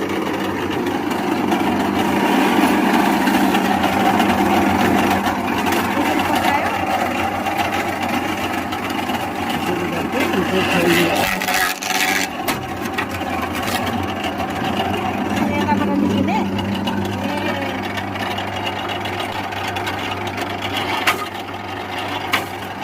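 A Farata Pro Indian-made pig feed cutting machine runs loudly and continuously nearby, a steady motor drone with rattling and chopping clatter, a brief dip around the middle.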